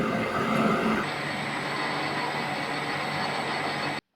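A metal lathe takes light facing cuts across a Stuart 10V model engine flywheel held on with superglue, giving a steady, loud machining drone with a whining tone that stops abruptly at the end.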